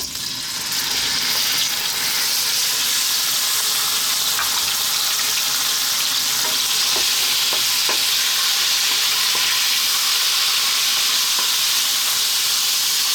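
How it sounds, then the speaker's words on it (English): Belly pork drops into hot oil in a wok, and after a brief quieter moment a loud, close, continuous sizzle bursts up and roars on steadily with occasional faint crackles. "What we're gonna do is we're gonna get our belly pork and drop it in"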